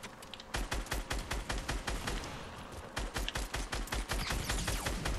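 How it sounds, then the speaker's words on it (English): Rapid, dense volleys of automatic gunfire in Fortnite Battle Royale ring out loud and close, cracking in quick succession, briefly thinning near the middle before erupting again in steady bursts. "I'm now getting shot from all over"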